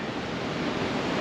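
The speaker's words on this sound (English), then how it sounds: "it is very windy this time" Steady, loud wind buffets the microphone throughout, a dense roaring rush with no pauses.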